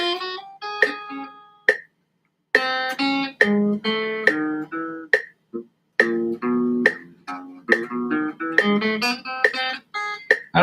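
A guitar finger exercise with the fingers held down: clipped, separate picked notes in short stop-start bursts with small gaps, close and moderately loud, with no voices.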